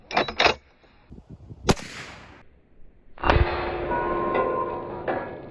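A lever-action rifle fires hardcast bullets at a piece of concrete outdoors. Two sharp, loud reports stand apart from each other, the second followed by a long metallic ringing decay, with scattered clicks before them.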